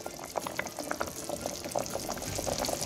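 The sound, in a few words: pork boiling in a pot for arroz con chancho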